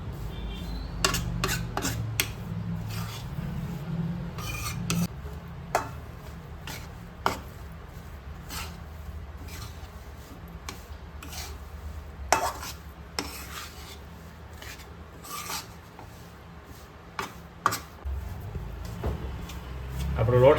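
Flour being stirred and roasted in a pan for Gujarati sukhadi, with irregular scraping and tapping clicks from the utensil over a steady low cooking hum, close and moderately quiet.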